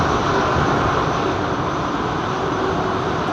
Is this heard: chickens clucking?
no